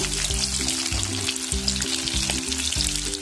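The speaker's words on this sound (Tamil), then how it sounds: "2 சைடு நல்லா ரோஸ்ட் ஆகிறதுக்கு திருப்பி விட்டுட்டே இருங்க" Chicken 65 pieces frying in hot oil, turned now and then so both sides roast; a steady, loud sizzle fills the clip with light scraping stirs and no voices.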